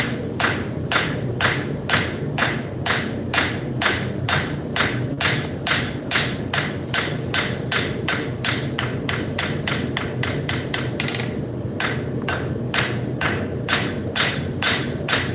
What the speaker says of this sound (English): All I'm doing here is just spreading out this leaf using the cross peen of the hammer.